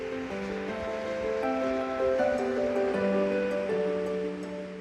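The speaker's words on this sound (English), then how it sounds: "tantalising visitors by the sound of water. It's made by the big cascade he built at Scampston" Water rushing steadily over the large landscape cascade built by Capability Brown at Scampston garden: a continuous rushing wash with music playing over it throughout.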